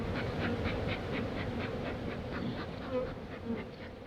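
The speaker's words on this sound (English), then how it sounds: "So I see we got a good cluster of bees right here" A dense, continuous buzzing of a cluster of honeybees in a hive in January hums steadily throughout, close and loud, like a busy swarm.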